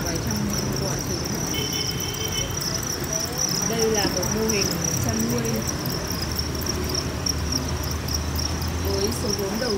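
Crickets chirp in dense, continuous trills on a cricket breeding farm, loud and close, while someone talks over them.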